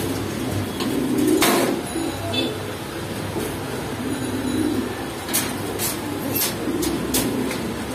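Pigeons in a pigeon shop at Kaptan Bazar give low, repeated coos in soft bursts, mixed with shop background noise and occasional sharp clacks.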